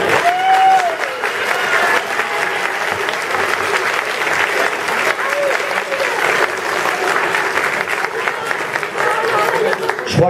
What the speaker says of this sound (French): rien que pour ça, on peut encore les applaudir.